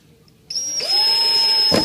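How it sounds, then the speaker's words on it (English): A power drill with a screw tip whirs up to a steady high-pitched whine while driving a screw into a window jamb, running continuously for over a second with a brief grinding burst near the end. "Using a drill with a screw tip"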